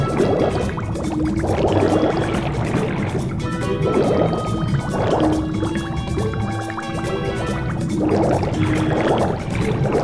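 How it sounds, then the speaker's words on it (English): Penguin swimming through water in the Happy Feet video game, repeated sloshing splashes and liquid swishes in rhythmic strokes over continuous game audio with musical tones. "Mumble, move yourself through the water"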